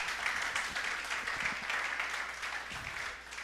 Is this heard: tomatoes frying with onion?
no